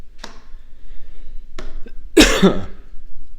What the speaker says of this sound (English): I need to learn to mute when I cough.